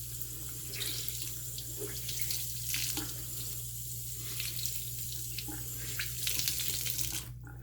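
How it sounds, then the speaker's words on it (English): Running tap water pours steadily over a shaving brush being rinsed clean of soap at a sink, a continuous close splashing hiss with a few shifting surges and no talk. "I'm going to need another rinse."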